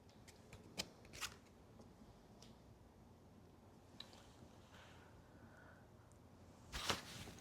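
Tarot cards handled and shuffled in a quiet room, a few faint brief riffles and card flicks with a louder burst of shuffling near the end.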